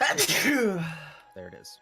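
A person sneezes once, loud and close, a drawn-out sneeze with a voiced tail, followed by a short spoken remark.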